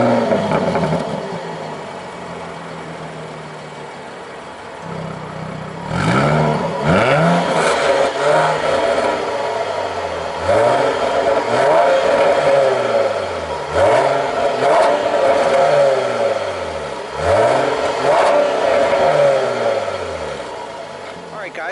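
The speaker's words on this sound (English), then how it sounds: "Let me go ahead and start the engine up for you guys. Let's hear it roar a little bit" A 2017 Jaguar F-Type S engine fires up and is blipped repeatedly, each loud rev rising and falling in a sweeping pattern, the sharp throttle bursts spaced a few seconds apart over a steady idle.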